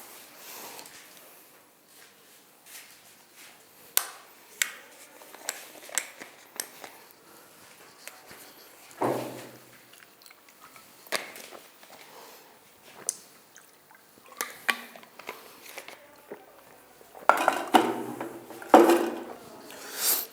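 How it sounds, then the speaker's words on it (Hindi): A teacher pauses a lesson to drink water, with scattered clinks and knocks of a glass being handled, small sips and a louder cluster of handling near the end, in a quiet room with no talk. "थोड़ा सा हम पानी पी लेते हैं"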